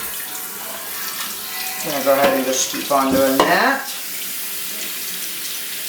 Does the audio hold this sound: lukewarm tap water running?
yes